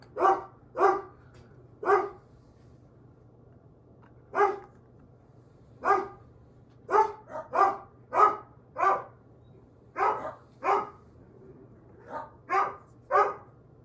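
Dogs bark in irregular bursts, single woofs and quick doubles and triples, close and loud in a quiet room over a faint steady hum, with no voices.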